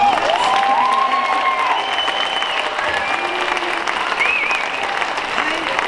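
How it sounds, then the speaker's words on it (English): After a fifth grade school concert, a crowd gives a loud, continuous round of applause, dense clapping mixed with some cheering and voices. "Let's give them another round of applause."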